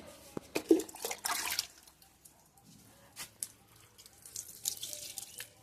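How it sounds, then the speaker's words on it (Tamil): Water splashes and trickles intermittently as sun-dried plants are watered, with soft drips and brief pouring bursts at close range and quiet gaps between them. "தண்ணி பாய்ச்சறது காமிக்கிறேன்"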